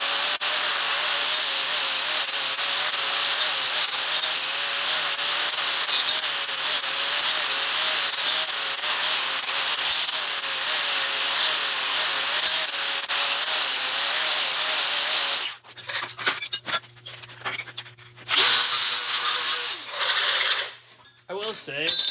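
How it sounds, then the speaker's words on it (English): A twisted wire wheel grinds slag and dross off freshly cut steel parts in a workshop, a loud, steady abrasive whir lasting most of the time before breaking into shorter bursts. "just twisted wire wheel takes off slag, this little bit of dross and slag that's on there, takes it off so good"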